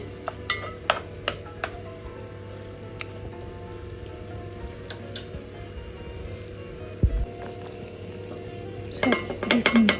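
Carrots and meat fry in a pot for pilaf, sizzling softly under intermittent metallic clinks and scrapes of a utensil against the pot, with a cluster of sharp taps near the end.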